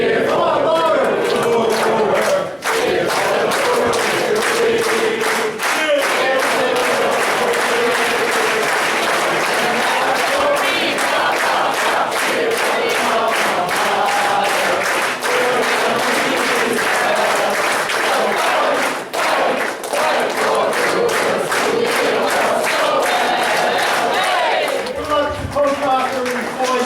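A loud, dense crowd at a 1970 football team induction ceremony stands, cheering and applauding continuously, with shouts rising over the steady clapping throughout and a brief dip near the end.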